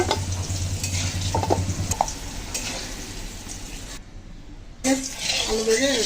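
Potatoes fry in hot oil in a pan for a crab bhuna and are lifted out, giving a continuous sizzle with stirring and scraping; a brief silent gap falls midway, and a voice can be heard speaking.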